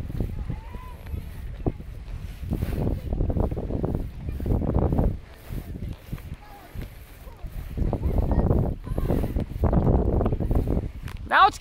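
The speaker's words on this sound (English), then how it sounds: "Now it's getting windy." Gusty wind buffeting the microphone while kayaking near a beach with waves, low rumbling surges that rise and fall, with people talking over it.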